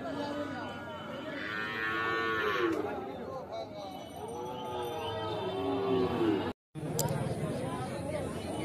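Calves and cows low repeatedly at a busy cattle market, drawn-out moos rising and falling over a dense murmur of crowd chatter, with one brief dropout near the end.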